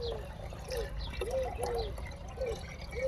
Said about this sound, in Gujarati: હવે આપણે આ પાણી ચાલુ છે નળીથી